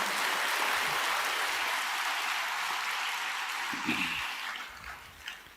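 An audience applauds in a steady dense wash of clapping that fades slightly toward the end, with a brief low voice near the close.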